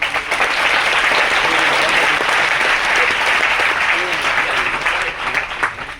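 Loud, dense applause from a crowd at a Hindi-language business training session, sustained clapping that stays strong for several seconds before thinning slightly at the end.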